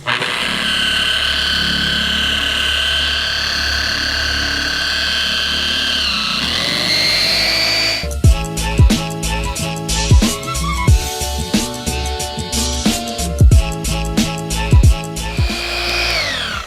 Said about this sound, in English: some people put it down on a low speed, work it in, and then turn the speed up